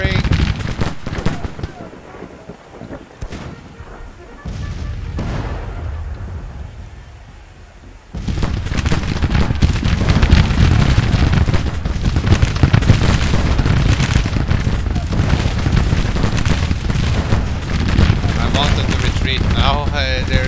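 Cannon booms and musket volleys in the Grand Tactician Civil War 1861-1865 strategy game roll in a dense, rumbling barrage that swells loudly and continues without a break, with a voice speaking at times.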